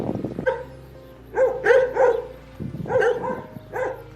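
Dogs barking on a Pyrenees hiking trail, several loud, close barks in two clusters, with some whimpering yips between them and no talking.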